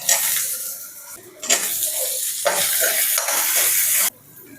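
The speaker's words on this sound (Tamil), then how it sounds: "எல்லாமே போட்டு நல்லா வதக்கிக்கலாம்." Urad dal, dried chili, ginger and garlic sizzle steadily in hot oil in a home kitchen, with stirring scrapes rising and falling close up and no talking.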